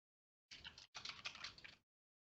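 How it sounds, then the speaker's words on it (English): Fingers type on a computer keyboard in two quick bursts of clicking keys, faint and close, with a brief pause between them and nothing else around. "What are you typing there?"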